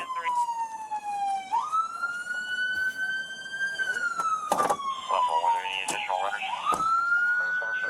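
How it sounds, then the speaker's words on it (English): A police car siren wails continuously after a high-speed chase, its pitch sliding up and down in slow sweeps, with voices and scattered knocks in the background. "Whose siren is that?"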